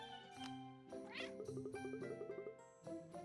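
A cat meows in a run of short, rising cries over a faint jingling musical background, with no one talking.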